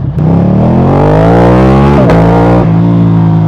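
A Ducati Streetfighter V2 motorcycle engine revs up hard and close, its loud rising twin-cylinder roar climbing steadily before a brief gear-change dip and a renewed pull.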